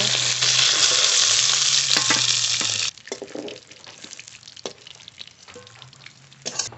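Loud, steady sizzling of glassy perch fish frying in hot oil fills the first few seconds, then quieter crackles and scraping clinks follow.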